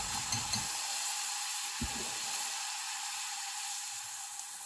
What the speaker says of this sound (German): Wenn die Butter heiß ist, kommt ein fein geschnittener Zwiebel dazu